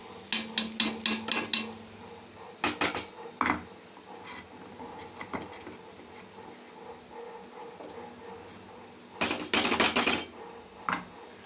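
Coarsely ground dried chilli being stirred in oil in a pan, heard as bursts of sharp spoon scrapes and knocks against the metal pan separated by quiet gaps, with no talk.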